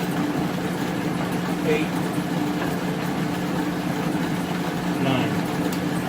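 A rotary phase converter's idler motor hums steadily in a shop at roughly 1,000 RPM, a low continuous drone running under a voice reading out amp figures.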